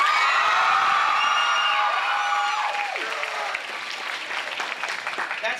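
High school audience breaking into applause and cheering with whoops, loud and dense at first, then thinning into scattered clapping and crowd noise.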